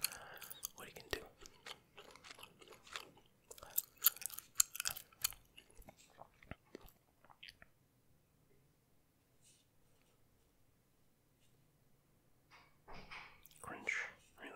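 Close, wet gum chewing with soft whispering over it, recorded during a Clash Royale mobile game session; irregular chomps and smacks come in clusters, fade to near silence midway, then pick up again at the end.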